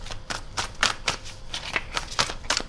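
A tarot card deck being shuffled by hand, a rapid run of crisp papery riffles and slaps repeating in uneven bursts, close and fairly quiet with no talk.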